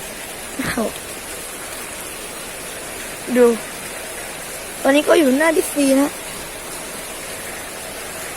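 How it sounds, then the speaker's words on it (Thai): Heavy rain falls constantly as a dense, even hiss that fills the whole scene. Someone briefly speaks over it a few times. "ฝนตลอดเลยไม่หยุด"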